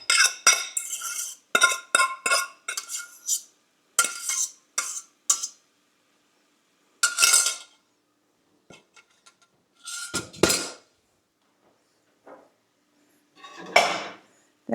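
A utensil scraping and knocking through cooked rice in a pot, for moose stuffed peppers on a woodstove; bursts of close metallic scrapes and clinks come in quick clusters, then trail off to sparse taps with quiet gaps.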